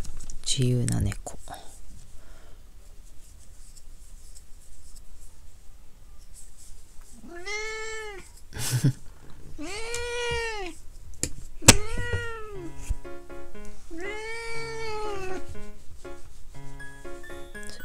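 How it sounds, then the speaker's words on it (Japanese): A cat meows several times, with drawn-out, falling cries spaced a second or two apart, fairly close in a quiet room, alongside light scratching and tapping noises. "自由な猫。"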